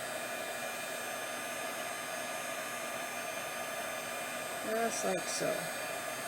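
Heat embossing tool blowing steadily to melt embossing powder on a handmade thank-you card, a constant loud broadband whoosh with mains hum throughout and a brief voice near the end.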